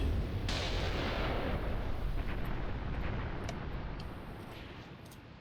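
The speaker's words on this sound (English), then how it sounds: "What's this artillery falling?" Artillery shells falling and exploding in the video game Graviteam Tactics, a dense continuous rumble of blasts that fades slowly toward the end, with faint crackles on top.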